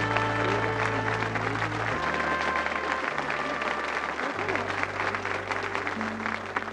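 Studio audience applauding at a 1986 British TV game show, sustained steady clapping throughout with a low background tone, no talk over it.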